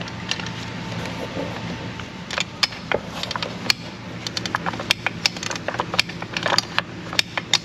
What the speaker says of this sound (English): Let's get in there a little ratchet and make it more tighter.